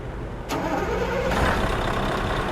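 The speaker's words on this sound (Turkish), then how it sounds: "Şöyle bir marş yapalım soğuk motora." Cold bus engine cranking and catching in Euro Truck Simulator 2 on a dirt road, a sharp start followed by a steady, close mid-pitched idle rumble, with no talk.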